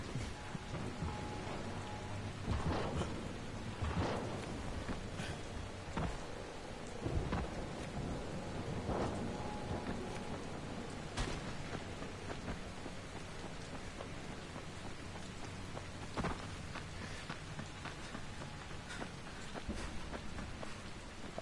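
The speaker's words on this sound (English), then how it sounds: "And it's raining." A moderately quiet, continuous downpour in the video game Dying Light, with scattered thunder cracks and rumbles rising out of the steady rain at irregular intervals and no one talking.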